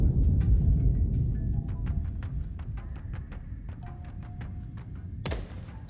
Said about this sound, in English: That was a big firework.